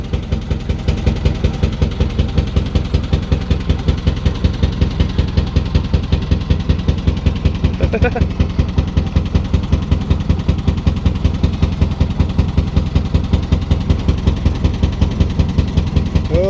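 A narrowboat engine with engine issues runs on the Grand Union Canal, thumping loud and close in a steady, rapid rhythm throughout, with a brief voice once.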